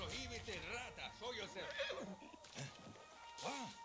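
Horse in the video game Far Cry 6 neighing in several shrill whinnies with clip-clop hooves, mixed with game sound and faint at low level.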